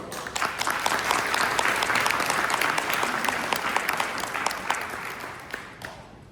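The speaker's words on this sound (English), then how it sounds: "Please join me in giving a round of applause to our judges." An audience at a business pitching event in a Hyatt Regency ballroom applauds the judges, loud sustained clapping that fills the room before fading out at the end.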